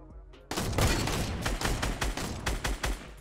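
Rapid gunfire in the Fortnite Battle Royale video game: a dense burst of loud repeated shots that starts abruptly and carries on in quick, uneven volleys.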